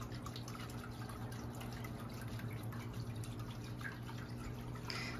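A store-bought water feature on a patio drips and trickles continuously, a steady close splashing patter with a constant low hum in the background and no talking.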